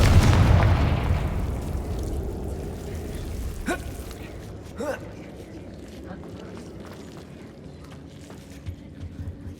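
A Confringo explosive spell from the game Hogwarts Legacy bursts with a loud, broad blast that decays over a few seconds, followed by scattered crackling debris pops and rumble fading into a quieter ambience.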